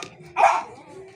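A pet dog gives a single short bark at close range, followed by a quiet room.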